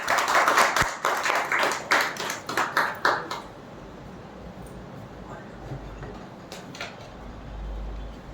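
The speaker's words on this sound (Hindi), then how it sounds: "जोरदार तालियां।" Audience applause at a World Environment Day foundation-day event in an office, a few seconds of brisk uneven clapping that fades into room noise and faint murmuring.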